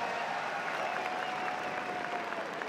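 Steady applause from a large arena crowd at a CS:GO esports semifinal at IEM Sydney, a continuous even wash of clapping with no gaps, heard alone at moderate level.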